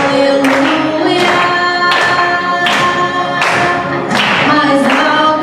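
A worship congregation claps along in a steady rhythm, roughly one loud clap burst every second, over music playing throughout.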